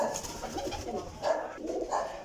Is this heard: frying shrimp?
no